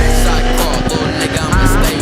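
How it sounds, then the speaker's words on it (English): A Kawasaki ZX10R liter bike revs hard through a third gear wheelie, a loud, close, steady engine roar with wind buffeting. "I'll show you a third gear wheelie right now."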